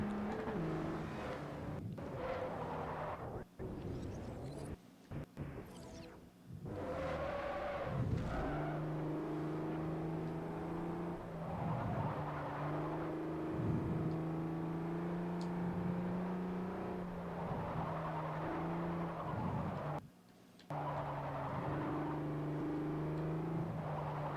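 A supercharged car engine revving in Forza Motorsport 4 holds a steady droning whine with rising pitch sweeps and a few sharp drops, loud and close with no talking.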